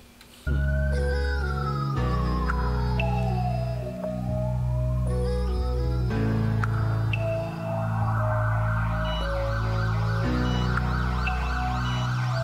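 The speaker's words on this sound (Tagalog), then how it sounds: "Merong ambulansya." An ambulance siren wails, sweeping down and back up in pitch, mixed with steady, sustained musical tones, loud and continuous with no talking.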